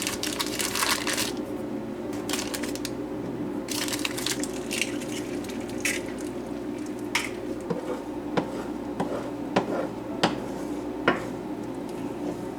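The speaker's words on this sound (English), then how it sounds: "Now we'll scramble some eggs real quick." Eggs are scrambled in a large skillet, with a spatula scraping and tapping against the pan in irregular strokes over a low sizzle, close up and without talking.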